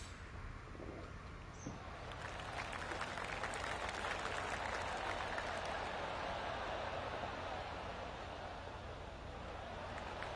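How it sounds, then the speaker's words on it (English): Golf gallery applause spreads around the course in the PGA Tour 2K25 video game, a faint, distant patter of claps that swells gently and holds steady. "I can hear the golf claps around the course"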